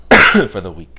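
A single harsh cough bursts out, followed by a few spoken words from the same person, close and fairly loud.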